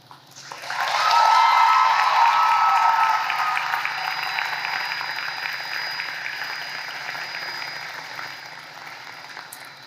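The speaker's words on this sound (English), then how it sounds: "offer a roaring round of applause to your support network" A large audience at a law school graduation ceremony bursts into loud, sustained applause that peaks early, then slowly thins out while continuing steadily to the end.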